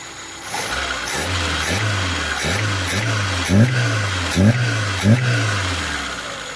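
A Toyota 1.3 engine fitted with a Solex carburetor runs at a steady idle while warming up, a low continuous engine drone with regular pulsing throbs and a few brief rev-like bumps, close and alone.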